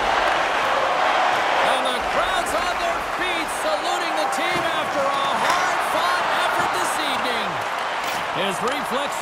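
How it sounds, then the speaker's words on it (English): Arena crowd noise from an NHL 24 hockey game between the Carolina Hurricanes and Seattle Kraken, a steady loud roar of cheering and applause that runs throughout, with a commentator talking over it. "the crowd's on their feet, saluting the team after a hard-fought"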